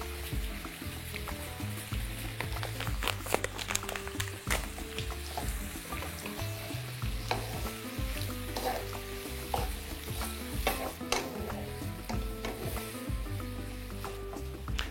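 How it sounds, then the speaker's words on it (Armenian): Apples sizzling and frying with sugar in a pan as they caramelize, with steady close crackling and repeated stirring scrapes throughout, no voices. "անմիջապես համեմում ենք մառանիկ ընկերության շաքարավազով, կարամելացնում ենք խնձորը"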